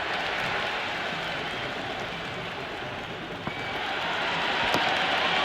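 Stadium crowd cheering during a Cricket 26 match, a continuous broad roar of many voices that holds fairly steady, dips slightly, then swells again toward the end.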